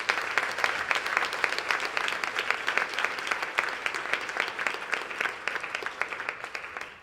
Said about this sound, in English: Let's give her another incredible round of applause.